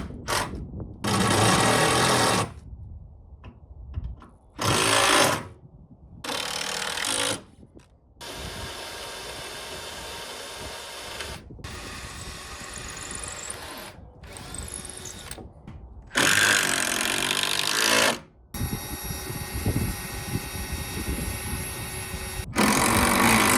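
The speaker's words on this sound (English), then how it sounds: "We're just going to drill through and put at least 3 or 4 more screws into this one" A power drill whirs in repeated bursts, stopping and starting as screws are driven into wood wall framing inside a shuttle bus under conversion, with brief quiet gaps between runs.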